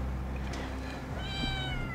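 Several cats meow over a steady hum in a house where a dozen cats are kept, with drawn-out, rising and falling cries layered near and at middle distance across the whole stretch.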